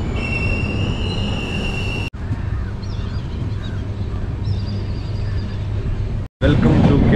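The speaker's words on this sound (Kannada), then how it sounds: "ನಮ್ಮ ಟ್ರೈನ್ ರೀಚ್ ಆಗಿದೆ ಎರ್ನಾಕುಲಂ ಟೌನ್ ಡಿಪಾರ್ಚರ್ ಆಗ್ತದೆ." A train departs Ernakulam Town station in Kerala with a loud, steady rumble of carriages and wheels on rails. The rumble runs throughout, broken by two brief drops that sound like passing gaps, and faint high squeals sit above it.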